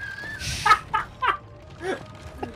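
A human voice squawking and clucking in imitation of a chicken, a few short bursty calls spread over a couple of seconds, fairly close and moderately loud.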